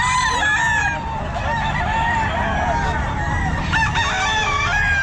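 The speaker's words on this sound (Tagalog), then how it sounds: "Ayun ang daming manok" Several roosters crow loudly and repeatedly nearby while chickens cluck at an outdoor pet market, set against a constant background din.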